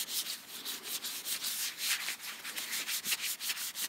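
A cloth wipes rust preventive off the blade of an old Stanley chisel, making rapid, rhythmic back-and-forth rubbing strokes, close and continuous without any voice.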